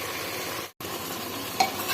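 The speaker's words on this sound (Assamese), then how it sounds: "বিলাহীখিনি দি এতিয়া আকৌ 10 মিনিটমানৰ কাৰণে ভাজি থাকিম।" Goat meat and tomatoes sizzle steadily in a hot pan, a close, continuous frying crackle briefly cut off for a moment before resuming.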